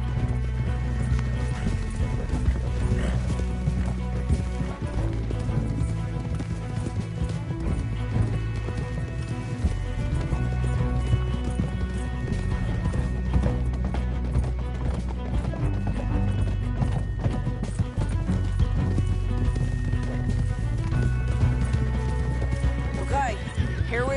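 Horses gallop in the Western video game Red Dead Redemption 2, with steady hoofbeats, occasional whinnies and crashes, loud and continuous throughout while voices speak over them.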